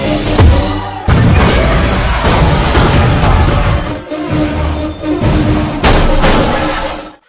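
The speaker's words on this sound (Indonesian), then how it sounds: "Tak lama mereka bergerak, mobil Diwakar meledak." A car explodes in a loud, violent blast with shattering debris, followed by sustained crashing and rumbling that dies away abruptly at the end.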